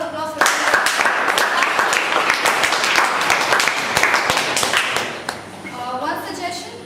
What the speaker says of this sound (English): please give a round of applause for that